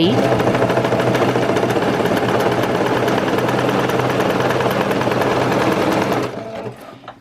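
A sewing machine stitches a zigzag on stretchy fabric in one continuous loud, fast rhythmic whir, then cuts off near the end, leaving a brief quieter tail.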